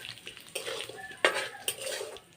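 Bay leaf and whole cumin go into hot oil in a pan while making cabbage paturi, giving a quiet clatter of a spoon stirring against metal with a faint sizzle, in short uneven bursts.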